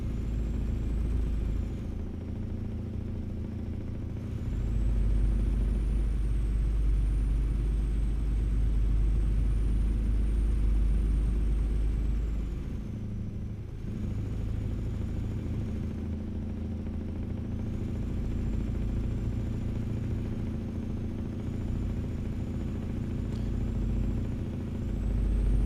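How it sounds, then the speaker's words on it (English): A truck engine drones steadily in a delivery driving video game, a loud low rumble that holds for the whole stretch and swells and dips slightly in places, with no voices over it. "the loud engine sounds like it's yours"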